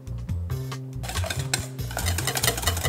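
Hollandaise sauce with added lemon juice is stirred in a pot over a water bath, giving close, repeated scraping and clinking of a utensil against the pan in an uneven rhythm, with no talking.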